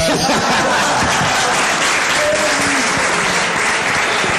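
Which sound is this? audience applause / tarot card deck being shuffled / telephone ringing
audience applause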